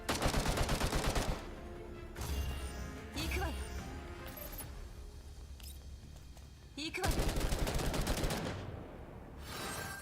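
Gunfire in the video game Girls Frontline 2: Exilium, aimed at a barrier, with rapid dense shooting at the start and again near the end. Game music and effects sit under it, with speech in the mix.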